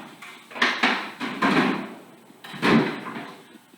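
Kitchen drawer sliding open and shut while dishes such as a cheese grater and colander are put away, several wooden scrapes and thumps close by in a quiet room.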